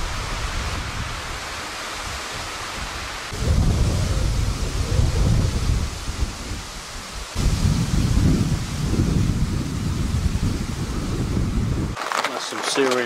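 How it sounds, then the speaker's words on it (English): Heavy rain falls in woodland around a tent camp. A loud, steady roar of downpour swells in surges, and low thunder rumbles beneath it, with a brief quieter break near the end. "That's some serious rain today."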